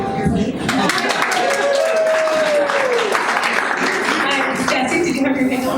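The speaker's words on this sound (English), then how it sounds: "I'm handing back to Hannah so that we can get some more applause for her." Audience applause for a presenter at a community talk event, a steady, fairly loud patter of many hands throughout, with a tonal sound gliding through the middle and voices mixed in.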